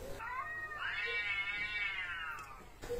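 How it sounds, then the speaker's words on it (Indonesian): A cat in heat gives one long, wavering, yowling meow that swells and fades over a few seconds, faint against steady background hiss. "Ini kucing, Bang."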